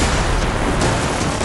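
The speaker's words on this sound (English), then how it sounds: "explosions echoing somewhere on the Tibetan plateau" Explosions from a military drill on the Tibetan plateau form a dense, loud, rumbling roar with a couple of sharper blasts, sustained and saturated for the whole short span.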